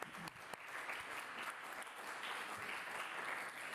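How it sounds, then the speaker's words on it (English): Audience applause at a city council candidates forum in Portsmouth, Ohio, a steady wash of clapping from a seated crowd, fairly faint and distant, running evenly throughout. "A round of applause for democracy."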